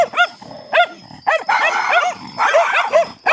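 A dog barks in short, sharp bursts about five times, with whiny, yelping tones between them, fairly close and with no one talking.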